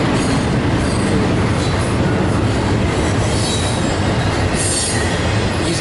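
A CPKC freight train hauling auto racks rolls past close by, a loud continuous roar of wheels and rail noise with some squealing, heard alone without talk.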